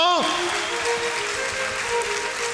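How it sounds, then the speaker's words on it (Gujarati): An audience at a Swaminarayan religious festival in Botad claps loudly and continuously, a dense roar of many hands that holds steady from start to finish, with a voice briefly audible at the very beginning. "એકવાર જોરદાર તાળીઓથી વધાવો બાપ."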